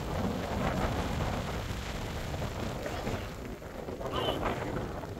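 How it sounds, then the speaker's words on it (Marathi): Heavy rain pours down on a coastal road near Devghali Beach in Ratnagiri during a monsoon downpour, a dense continuous roar with gusting wind and rumbling lows, loud and unbroken throughout. "इकडे पोचलो आणि पावसाचा जोर पण वाढलाय"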